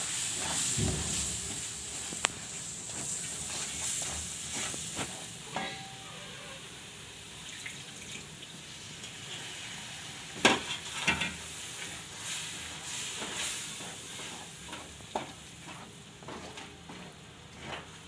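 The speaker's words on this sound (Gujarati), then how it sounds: "દૂધ ઘી આપણે થોડું થોડું આમાં નાખતું જવાનું અને હલાવતું જવાનું" Moong dal halwa cooks in a pan as milk and ghee are added a little at a time, giving a soft hissing sizzle, with a spoon scraping and tapping now and then; it stays quiet and close throughout.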